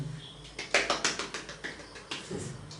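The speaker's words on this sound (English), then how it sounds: "Intermittent clapping means what? You can clap like this." A person demonstrates intermittent hand clapping during a phonetics lecture, giving about a dozen sharp, close claps in a steady rhythm with slight gaps between them, fairly quiet, with no talking.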